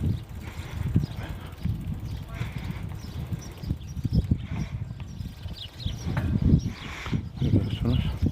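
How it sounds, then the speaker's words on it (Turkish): Horses ridden on a farm in the Canik Mountains clip-clop over the ground with uneven hoof beats close by, mixed with voices talking in the background. "atlar biniyorlar"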